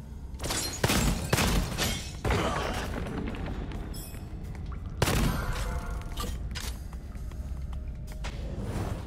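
Clay pots shatter one after another in the first-person shooter Gunfire Reborn. Sharp, bright crashes land in a quick irregular series over a constant game-audio bed.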